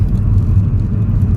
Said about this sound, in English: Bugatti Chiron.